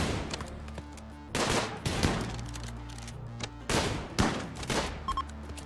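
Video-game gunfire in a colony-building game: several sharp bursts of rapid shots, loud and close, separated by brief quieter gaps, with no voices.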